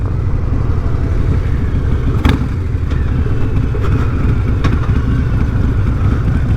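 A Harley-Davidson Fatboy motorcycle engine rumbles in a loud, steady low drone while riding, mixed with wind rush and a few brief clicks, with no talking.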